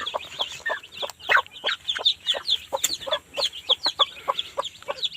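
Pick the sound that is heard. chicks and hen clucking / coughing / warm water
chicks and hen clucking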